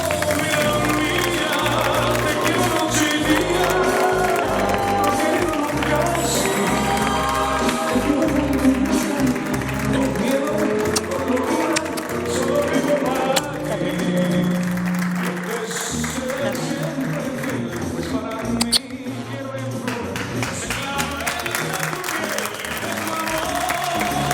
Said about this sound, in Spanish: quiero que le reciban con este aplauso